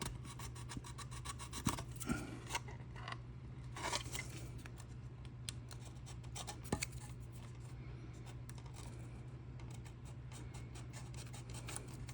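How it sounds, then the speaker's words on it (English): Sandpaper rubs in short, raspy strokes against a plastic part from a Tamiya Tiger I model kit, a quiet, close scratching over a low steady hum. "Use a little sandpaper to clean that out."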